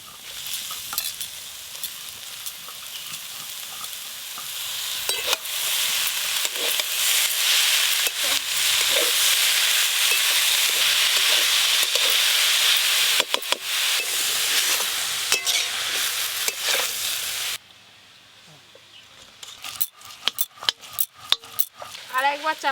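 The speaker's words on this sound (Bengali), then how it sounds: "এবার কেটে ধুয়ে রাখা মেথি শাকগুলো দিয়ে দেবো।" Methi greens tossed into a pan of fried potatoes set off a steady, loud sizzle with stirring scrapes and utensil clatter for most of the span, then it drops away to softer scattered clinks and handling noises.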